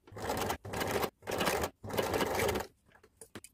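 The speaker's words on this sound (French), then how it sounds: "je vous recommande la surpiqûre nervure, puis une deuxième surpiqûre en parallèle" A sewing machine topstitches the neckline of an abaya in four quick bursts of rapid needle clatter separated by short pauses, ending with a few faint, scattered clicks.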